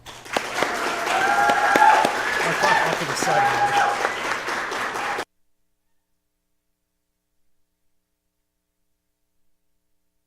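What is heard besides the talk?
audience applause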